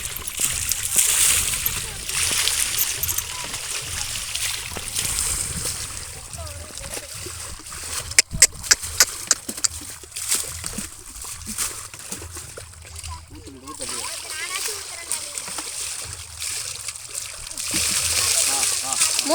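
Water sloshes and splashes over a cow during a Pongal bath, steady pouring and splatter close by with a few sharp knocks midway, under people talking nearby.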